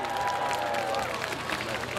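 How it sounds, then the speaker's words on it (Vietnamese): A concert audience applauds the band at a live Vietnamese music performance, a steady wash of clapping and crowd noise with a faint sustained tone underneath. "xin quý vị một tràng pháo tay cho ban nhạc"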